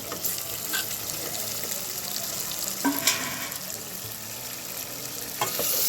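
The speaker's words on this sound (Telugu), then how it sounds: "ఇందాక కట్ చేసి పెట్టుకున్న ఆలుగడ్డ కూడా వేస్తాను." Cut potatoes tumble into a chicken curry frying in a pan, giving a steady close sizzle with a few stirring scrapes and splashes throughout, no voices.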